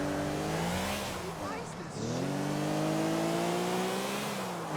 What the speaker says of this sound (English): this car sounds better in this game than GTA 5